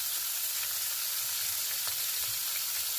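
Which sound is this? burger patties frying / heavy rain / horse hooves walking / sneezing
burger patties frying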